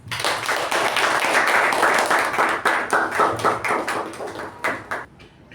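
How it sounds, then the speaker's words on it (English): A small Toastmasters meeting audience claps to welcome a speaker, a fairly close cluster of hands in pulsing bursts that thin into a few scattered claps before fading. "Please welcome Toastmaster Pavani with a huge round of applause"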